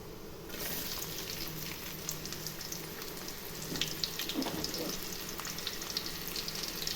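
Cumin seeds and onions fry in hot oil in a kadai, a steady, moderately loud sizzle that bursts in after a quiet half second and continues with small crackling pops.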